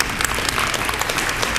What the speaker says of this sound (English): let's make sure that we give them a round of applause,